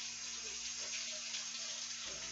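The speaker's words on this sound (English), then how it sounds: "Let me wash my hands again." Tap water runs steadily into a sink for handwashing, a constant close rushing stream with a faint hum underneath and no voices.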